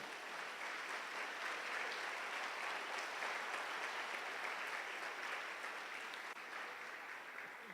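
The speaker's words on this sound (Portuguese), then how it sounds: "Só quem crê nisso dá um aplauso bem lindo ao Senhor." Congregation gives a long, even round of applause to the Lord, many hands clapping in a dense, unbroken wash at a constant level.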